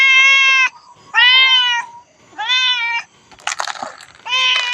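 Several cats meow in turn, clear and close, with four or five drawn-out harmonic calls separated by short gaps and a brief rustle of movement between them.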